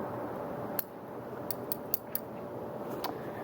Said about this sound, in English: So we'll give it a couple of trims here